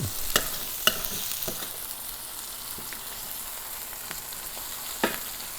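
Chanterelle mushrooms frying with onion and garlic in a pan give off a soft, steady sizzle, broken by a few brief clicks and scrapes of stirring.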